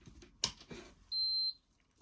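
A nail lamp gives a single clear, high electronic beep lasting under half a second, close by, among soft handling noises in a quiet room.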